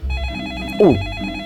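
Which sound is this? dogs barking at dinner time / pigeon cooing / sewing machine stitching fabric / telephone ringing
telephone ringing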